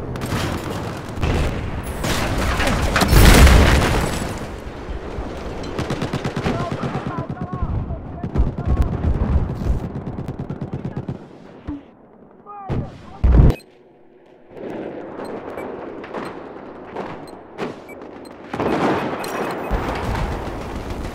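Battlefield 4 combat with an AC-130 overhead: heavy gunfire and booming explosions, loud and dense through most of the stretch, with a brief lull before the shots and blasts pick up again.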